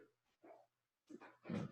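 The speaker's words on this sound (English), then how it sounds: "That's my dog." A dog barks twice in short bursts, each with a quick follow-up yelp, heard indoors at moderate distance with a faint steady hum underneath.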